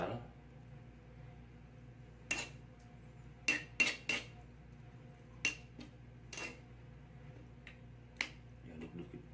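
A spoon scraping and clinking on a plate while warm rice is mixed with sambal terasi, several sharp separate clicks spaced irregularly over a low steady background hum, with no speech.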